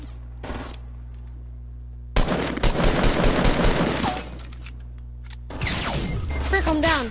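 Gunfire in a PS4 shooter: a brief burst, then a dense rapid volley of automatic fire lasting about two seconds, and another burst near the end, all close and loud over steady background hum.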